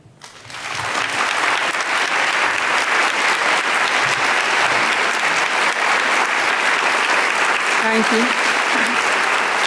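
An audience claps continuously and loudly in a hall to welcome an author. The applause swells quickly and holds steady, and a single voice speaks briefly near the end.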